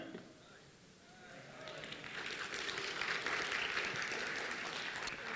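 Audience applause at a software developer conference, starting quietly and swelling into sustained broadband clapping from a crowd at moderate distance, with no talk over it.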